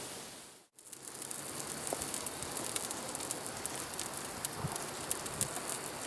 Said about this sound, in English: We really want to sear each side.